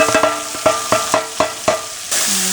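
Chopped ginger and scallions hit a hot pan while cooking spicy ramen, giving a steady close sizzle broken by a run of sharp rhythmic clacks of stirring, with a louder hiss surging near the end.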